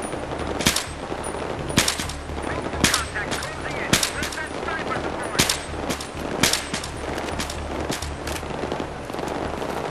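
Rapid automatic gunfire and single shots crackle through a Battlefield 3 firefight, bursts recurring steadily over ten seconds with a constant low rumble of battle beneath.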